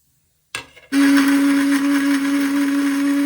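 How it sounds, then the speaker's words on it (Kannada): An electric mixer grinder whirs loudly with a steady, high motor whine as it grinds fresh ginger, cinnamon, cloves, half a tomato, two green chillies, mint and coriander, starting after a brief silence and a short rattling burst. "ಒಂದು ಸ್ವಲ್ಪ ಹಸಿ ಶುಂಠಿ, ಒಂದು ಸ್ವಲ್ಪ ಚಕ್ಕೆ ಲವಂಗ, ಹೆಚ್ಚಿಟ್ಕೊಂಡಿರೋ ಅರ್ಧ ಟೊಮೆಟೊ, 2 ಹಸಿಮೆಣಸಿನ್ಕಾಯಿ, ಸ್ವಲ್ಪ ಪುದೀನ ಕೊತ್ತಂಬರಿ, ಇಷ್ಟನ್ನು ಮಿಕ್ಸಿಗೆ ಹಾಕ್ಕೊಳ್ಳೋಣ"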